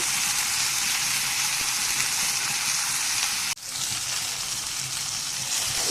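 Fish frying in hot oil in a village kitchen sizzles in a steady bright hiss, broken once by a sharp clack and a brief dip before the sizzle carries on.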